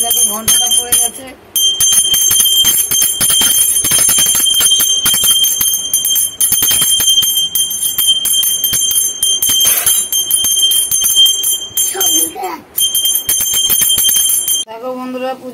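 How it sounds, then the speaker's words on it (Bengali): A small handheld bell rings rapidly and almost without pause during a Mahadev puja, bright and close, with a few short breaks. Voices can be heard now and then underneath. "দেখো ঘন্টাটা পড়ে গেছে।"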